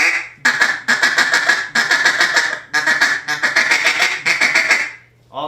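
A duck call blown in fast feeding chatter, with rhythm and speed varied. Loud, rapid quacking notes come in several tight bursts with short gaps, alone.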